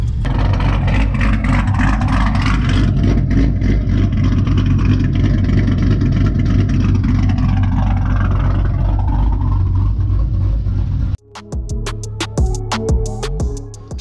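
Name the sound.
car engine running and revving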